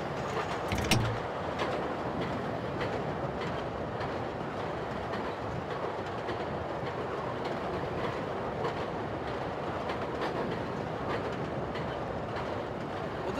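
A Chicago Brown Line train in the Railfan PS3 game rolls along with a steady rumble and faint clickety-clack of wheels on rails, heard alone without talk.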